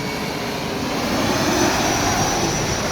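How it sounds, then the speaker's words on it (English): A fixed-wing airplane passes overhead near a roadside outside Albany, New York, its engine roar a steady, loud, broadband rumble that swells slightly midway and holds throughout with no talking. "Oh wow, an airplane's coming."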